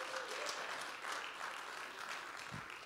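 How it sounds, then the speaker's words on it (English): Audience applause for children at a church fellowship gathering, a steady wash of clapping from a crowd that holds for about three seconds at moderate level. "let's give them a clap"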